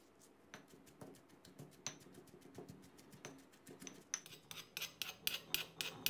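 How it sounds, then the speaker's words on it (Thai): A pestle pounds chili paste with dried shrimp and coconut sugar in a mortar, a run of close, sharp rhythmic thuds that speed up and grow louder toward the end, with no talking. "ใส่ลงไปแล้วก็ตำให้เข้ากันนะครับ"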